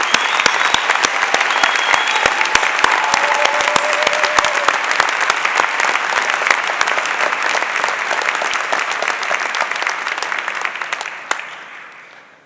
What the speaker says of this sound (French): Mérite tous nos applaudissements.